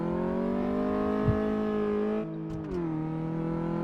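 Car engine on a test drive in Car Mechanic Simulator 2014, with a suspected clutch or gearbox problem, humming steadily at constant revs, then a brief drop and shift in pitch before settling again; loud and close, no talk.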